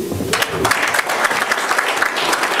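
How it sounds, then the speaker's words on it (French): Applause breaks out from the audience at a political rally in the Democratic Republic of Congo. It starts with a low rumble of voices, then dense, steady clapping fills the rest of the moment. "on doit vous applaudir aussi"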